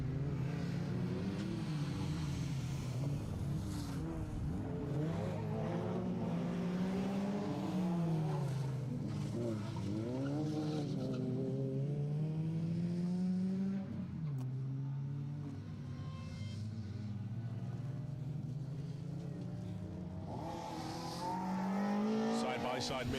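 Rally cars racing on a circuit stage of the SMC Stages Rally 2025, engines revving and rising and falling through gear changes with occasional tire squeal, while a commentator talks over the motor noise.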